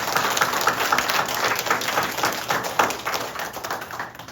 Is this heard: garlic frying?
no